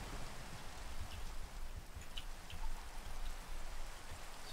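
Steady rain falling in the Minecraft video game, a continuous hiss of drops on surfaces with faint scattered ticks, alone and evenly loud.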